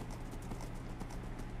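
Horse hooves clip-clop rapidly and continuously during a Minecraft party game, a dense, busy patter heard up close with no talking.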